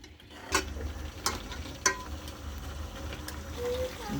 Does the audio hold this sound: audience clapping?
no